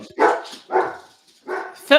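A dog barks three times in a short run, each bark loud and close, with a sharper yip at the end.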